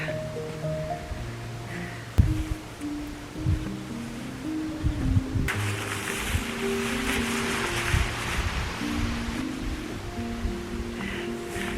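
Gusty wind near a mountaintop on Vermont's Long Trail roars across the microphone in surging broadband waves, swelling louder partway through, with faint rustling beneath.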